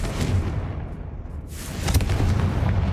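Confringo spell explosion in the Hogwarts Legacy video game, a loud booming blast with a rumbling low roar that carries through the whole three seconds, a second burst hitting midway.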